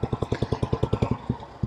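A 1964 Velocette Venom Clubman's 500cc air-cooled, overhead-valve single-cylinder engine thumps at a steady, even beat, each firing pulse distinct and close, with a slight slowing toward the end.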